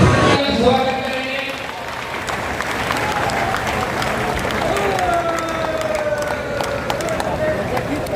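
Steady crowd applause at a political rally in Sirsa, India, dense and continuous clapping from many hands with a murmur of voices mixed in, lasting throughout.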